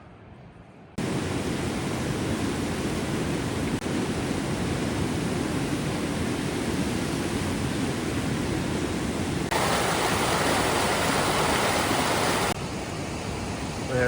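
Waterfall near Brandywine Meadows in Whistler, a constant broadband roar of falling water that fills the whole clip, steady and loud, briefly brightening partway through, with no voices.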